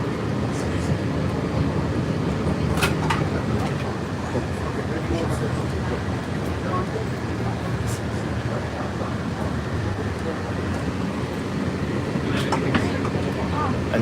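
Riding aboard the Walt Disney World monorail: a constant loud rumble and hum of the train in motion, with occasional sharp clicks and rattles, while people talk over the cabin noise.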